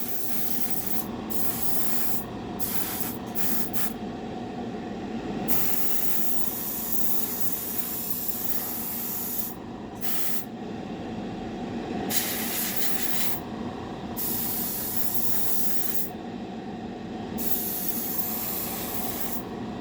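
A spray gun applies paint to a 1932 Ford roadster, a continuous loud airy hiss running close and unbroken for the full length, with slight swells as the gun moves and no voices.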